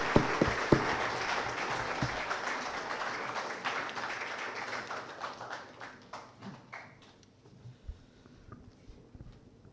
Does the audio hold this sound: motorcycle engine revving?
no